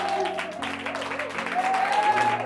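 Congregation applauding during a church service, a dense continuous patter of many hands beneath sustained music and voices.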